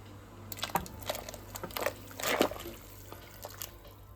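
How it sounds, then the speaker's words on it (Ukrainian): Chopped beetroot for Ukrainian borscht is tossed into a pot with meat, making a scattered run of quiet wet plops and clicks, a few pieces at a time, with no talking. "І закидаємо цей буряк разом зараз з м'ясом."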